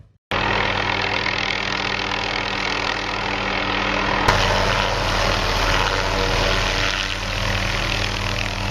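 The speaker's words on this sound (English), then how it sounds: "an acquaintance of mine, Larry Page, landed at Foo Camp in a helicopter" Helicopter landing at Foo Camp in 2007, a loud steady engine and rotor roar with a low throbbing drone, present throughout at close range and building slightly partway through.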